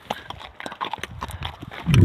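Horses walk downhill on a trail ride, hooves clip-clopping in an uneven, close rhythm, with a louder snort or rumble at the end.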